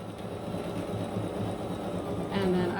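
A sewing machine runs steadily while quilting along the edge of a self-binding baby blanket, a close continuous whir that swells louder near the end, with no talk over it.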